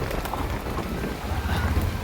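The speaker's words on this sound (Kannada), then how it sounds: "ಈ ಕಡೆ ಮಳೆ ಐತೆ ನೋಡಿ" Rain patters in the woods at a campsite, a continuous soft wash of drops close by with gusty low rumble mixed in, steady and unbroken with no talking.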